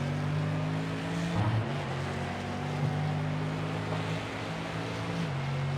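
A Porsche GT4 race car at Sebring International Raceway, its engine droning steadily at high revs with gear changes shifting the pitch, heard from onboard under a constant wash of road and wind noise.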